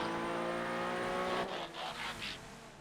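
A Landstalker SUV driven in GTA FiveM, a close engine hum with a rising pitch, then a short run of tire squeals and skidding bursts near the end.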